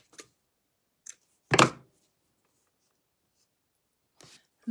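Scissors snip through cheesecloth in a few separate quick cuts, one sharper and louder than the rest, with silence between them in a quiet room.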